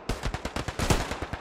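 Rapid bursts of gunfire in the World War II shooter game Hell Let Loose, a steady rhythmic rattle of shots close and loud, with no talking over it.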